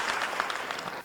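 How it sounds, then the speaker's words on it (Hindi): Audience applause at a Hindi kavi sammelan poetry gathering, a short, dense, even burst of many hands clapping together, moderately quiet, with no voices over it. "एक बार उनके लिए तालियां बजा दीजिए।"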